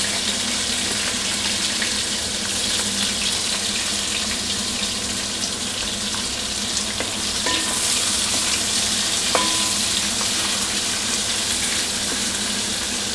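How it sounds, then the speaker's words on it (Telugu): Chopped onions frying in a pan, a loud, steady hissing sizzle that holds evenly throughout with a few faint clicks of a utensil, no voices. "దీంట్లోకి మనం కట్ చేసుకున్న ఆనియన్స్ని వేద్దాం."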